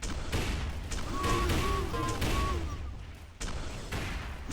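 Rapid automatic gunfire mixed with shotgun blasts in a deathmatch video game, sustained loud volleys with a steady rattle running through most of the stretch and a brief lull near the end.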